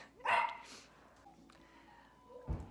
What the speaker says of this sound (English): Is that you barking, Steven?